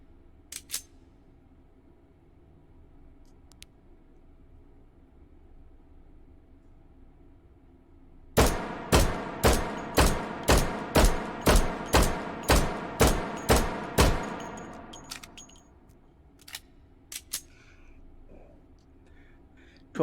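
Rapid pistol fire from a USP-45 in the VR shooting game H3VR at a 15-meter target: about a dozen sharp, loud shots in a steady quick rhythm after a quiet stretch, with faint handling clicks before and after.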